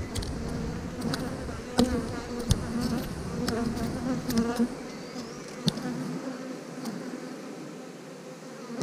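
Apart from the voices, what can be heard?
honey bees buzzing in a beehive box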